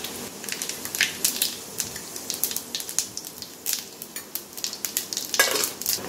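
Fennel seeds crackle and sizzle in hot oil inside a clay pot, a steady dense frying hiss with scattered sharp pops and a brief stir of utensils, no voices.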